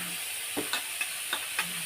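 Ginger and garlic paste hits hot oil in a frying pan for vegetable samosa filling, giving a soft hiss with a few light scraping stirs at irregular intervals.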